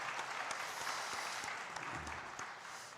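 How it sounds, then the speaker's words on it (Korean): Church congregation clapping together during a Sunday worship service in Ulsan, a steady dense wash of applause filling the room for a few seconds, with no talking over it. "지켜주신 하나님께 마음을 다해서 영광의 박수 한번 올려드릴까요?"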